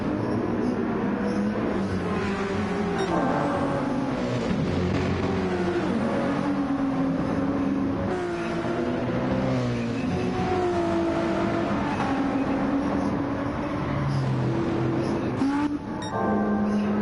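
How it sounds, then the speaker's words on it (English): Race cars in Gran Turismo 7 racing at Trial Mountain, several engines droning and shifting pitch continuously as they pass through, loud and close with faint talk underneath. "Very fast up here at the front as the top 4 come flying through the tunnel"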